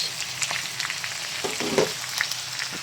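Chopped onion sizzles loudly in a hot pan, a continuous close frying hiss with a few spatters and stirring scrapes, no voices over it.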